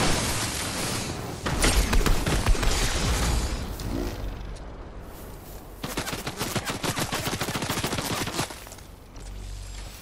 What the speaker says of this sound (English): there's someone shooting at you